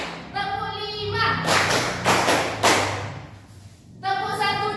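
A fifth-grade class claps together in a short counted burst of sharp, roomy claps, with a teacher's voice talking before and after.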